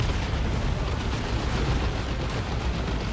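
Ork gunfire and explosions in Dawn of War 2: Retribution, a dense, continuous roar of overlapping blasts and rumbling booms, loud and steady for the whole stretch with no voices.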